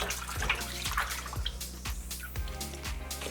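Collard greens being washed by hand in a basin of water, with repeated sloshing and splashing in a loose rhythm of strokes about every half second, close and moderately loud, with no talking.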